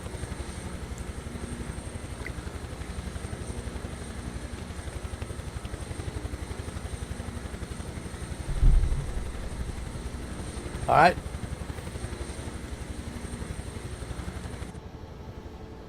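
Huey helicopter in Microsoft Flight Simulator 2024, a steady low rotor and engine drone running continuously with a couple of brief thumps, while someone speaks briefly over it.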